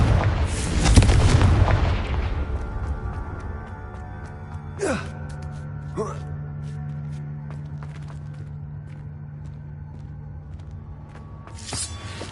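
Confringo spell blasts in Hogwarts Legacy: a booming burst near the start, then two sharper magical cracks a few seconds apart over a low sustained rumble, with a final crack at the end.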